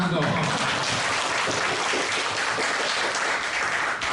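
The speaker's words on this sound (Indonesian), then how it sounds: "Tepuk tangan dong." Audience clapping steadily at an official inauguration ceremony for a regional association board in Lampung Tengah, a dense, continuous applause filling the room throughout.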